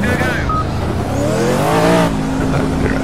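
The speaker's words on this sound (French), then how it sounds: "Ça fait plus le bruit d'un V8 qu'un V10." A race car engine in the video game Project CARS revs hard, its pitch climbing and falling through gear changes, loud and steady for about three seconds.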